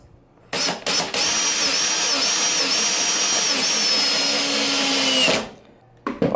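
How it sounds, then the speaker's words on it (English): A power drill drives a self-tapping screw into a bracket on a CNC spoiler board, a steady high whirring run of about five seconds that stops abruptly, close and loud with no talking. "let's go ahead and place the self-tapping screw here"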